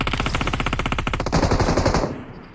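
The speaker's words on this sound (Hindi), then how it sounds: "देखो गोलियां चल रही है।" Rapid automatic gunfire from the BGMI battle royale mobile game, a dense fast burst of shots that runs for about two seconds, then fades out.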